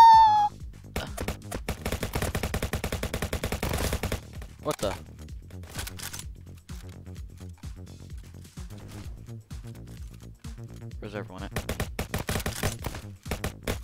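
Rapid gunfire in a shooter video game, with dense bursts of shots in quick succession and then scattered shorter volleys, loud and close, while a player talks over the action.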